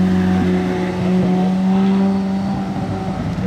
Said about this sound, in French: Oh, l'échappement il n'est pas d'origine, c'est des tubes ronds.